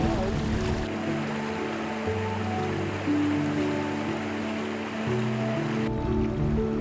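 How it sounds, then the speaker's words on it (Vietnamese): A clear stream flows over a pebbled bed in an autumn Mongolian valley, a steady close rushing wash of water that continues unbroken from start to end with no talk. "Tiếng suối chảy bên tai thì vô cùng thư thái."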